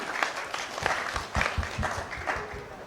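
Audience applause at an alumni ceremony for a foundation in Nigeria, a moderate crowd clapping steadily with distinct individual claps, somewhat distant and soft.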